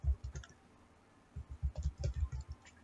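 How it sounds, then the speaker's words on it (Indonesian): Someone typing a command on a computer keyboard, with a short burst of soft, close key clicks, a pause, then a quicker run of keystrokes. "di sini saya membuka CMD, lalu saya ketikkan PHP"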